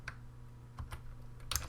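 Someone types C++ code on a computer keyboard, producing a few quick, quiet bursts of keystrokes separated by short pauses, with no voice.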